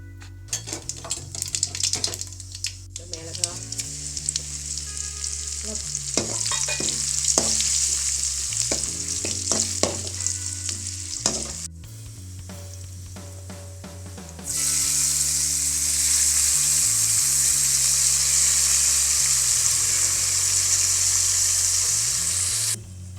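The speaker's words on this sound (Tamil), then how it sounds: "இதை இப்போ தாளித்து புளி கரைச்சி ஊற்றலாம்" Spices tempering in hot oil for tamarind rice: sizzling and clinking stirring at first, then a loud, sustained crackling hiss as more goes into the pan.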